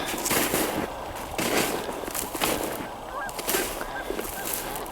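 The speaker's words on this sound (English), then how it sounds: "The one bird call is different. I don't recognize it." Loud, repeated honking calls from waterfowl at a wide pool outdoors, several birds calling over one another in a dense, continuous chorus with steady background noise.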